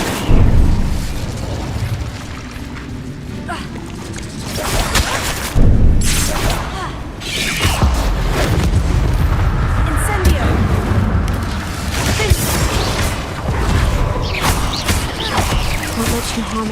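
Incendio fire spell blasts in the video game Hogwarts Legacy, loud booming bursts repeating through a dense, continuous battle din, with sharp peaks near the start and around the middle.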